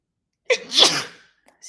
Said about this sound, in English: My sneezes are not dainty. My sneezes are masculine.